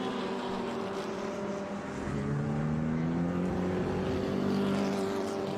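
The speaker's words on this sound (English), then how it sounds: "that Cooper Monaco as it goes around." Vintage Cooper Monaco sports racing car lapping a road course at a historic race-day reunion, a steady engine drone with rising and falling tones as it passes, continuous and fairly loud with no talk.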